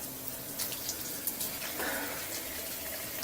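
Water runs steadily from a tap as hands are washed, a constant close splashing hiss with small bursts of spatter and no talking.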